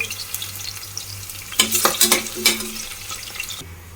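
Onion and bay leaves frying in oil in a pan for vegetable pulao, a steady low sizzle that swells into louder crackling and spatula stirring midway, then settles back down.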